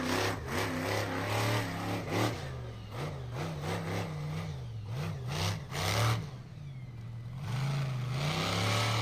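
Monster truck engine at a monster truck event in Neeses, South Carolina, revving hard as it goes up and over a jump, with repeated rising and falling throttle surges, loud and fairly close, no talking.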